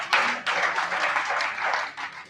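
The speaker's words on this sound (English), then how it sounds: "A round of applause again for our chief guest." A crowd applauds the chief guest at an Able2Vote North West event, with dense, loud clapping running steadily for a couple of seconds with slight swells.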